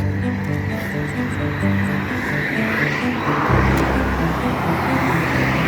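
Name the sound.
cars on a street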